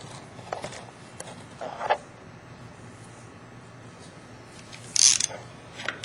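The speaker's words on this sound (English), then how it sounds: "once we've torqued it at 35 inch-pounds, we're now going to go to 45 inch-pounds" A torque wrench tightens an OPTISEP 800 holder toward 45 inch-pounds, making a few sparse mechanical ratcheting clicks. One sharp, louder click stands out near the end over quiet background, with no speech.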